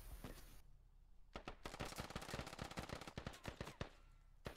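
Rapid bursts of rifle and machine-gun fire crack out in the Squad military shooter, dense, sharp repeated shots clustering after a short quieter lead-in, some close and loud, others more distant.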